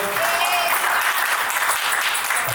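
Steady applause from a crowd of guests at a child's first birthday party, dense and continuous clapping held at an even loudness for the whole moment.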